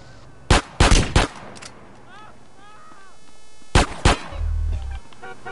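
Gunfire in the GTA video game comes as two loud bursts of rapid sharp shots, separated by a pause of a couple of seconds, with some background game sound between them.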